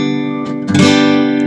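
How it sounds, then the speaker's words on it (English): A fully barred electric guitar chord is strummed in the shape of a song intro. The chord is already sounding, then a fresh strum brings a brighter attack that rings on steadily with no voice. "If I had barred all the way down, it would sound like this."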